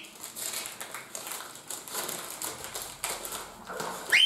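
A flat black plastic packet is opened by hand, giving close, irregular crinkling and crackling that runs throughout, with a sharper rustle near the end.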